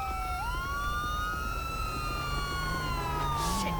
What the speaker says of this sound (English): Probably should have turned my siren off first